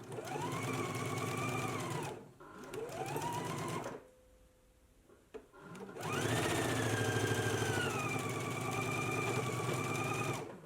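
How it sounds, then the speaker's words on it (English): A sewing machine stitches shoulder seams on a McCall's M8658 garment, a loud close motor whir with fast rhythmic needle chatter in long runs, briefly stopping in a quiet pause before starting up again. "Let's go ahead and stitch our shoulder seams now."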